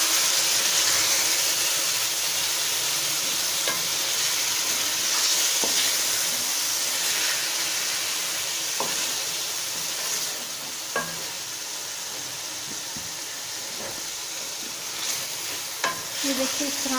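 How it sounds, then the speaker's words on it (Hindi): Pumpkin salan curry stir-fried in a pan makes a loud, constant sizzle that eases slightly partway through, broken by occasional scrapes and clicks of stirring. "अब मैं सालन की अच्छी सी भुनाई कर लूँगी।"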